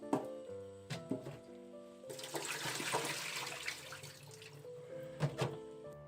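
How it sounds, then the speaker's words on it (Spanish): Cauliflower is rinsed under a running kitchen tap in a steady hiss of water lasting a few seconds, bracketed by knocks and clatters of handling; no one speaks. "vamos a enjuagar nuestro coliflor para ponerlo a cocinar"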